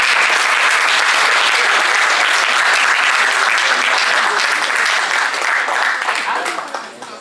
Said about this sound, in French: Donc je voudrais que vous applaudissiez aussi pour elle.